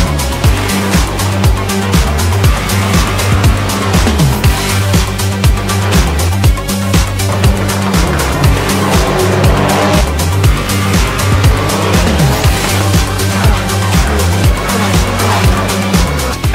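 Touring cars launch from a standing start at the Pau street circuit, a loud continuous wall of engine roar with repeated gear-change pulses and revving as the field pulls away.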